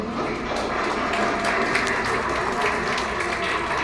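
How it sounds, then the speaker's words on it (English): A crowd gives a round of applause at the Riway branch grand opening in Davao City, a sustained, slightly muffled roar of clapping in a large space with low rumble beneath. "Now let's give Riway a round of applause."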